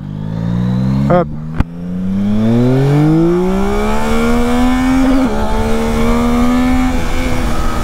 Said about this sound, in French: Je vais aller vous faire une petite accélération à gauche et on reviendra par les virages.